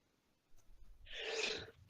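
A single sneeze follows a short intake of breath, sharp and close, in an otherwise quiet space.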